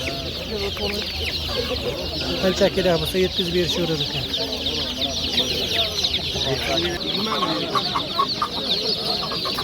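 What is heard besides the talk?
two-day-old chicks chirping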